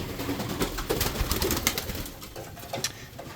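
A young racing pigeon coos repeatedly at close range as it is handled indoors in a loft, with soft rustling and shuffling around the low, throaty calls.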